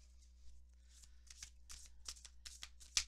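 Tarot cards shuffled by hand during a reading: soft riffles and flicks of card stock building in a loose rhythm, close and quiet, ending in a sharper snap, with no talking.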